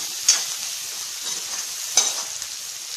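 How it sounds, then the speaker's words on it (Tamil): Onions frying in oil in a kadai for egg curry, a steady soft sizzle throughout with two brief stir clatters, close and alone with no talking. "வந்து வெங்காயம் நல்லா வதங்கட்டும்."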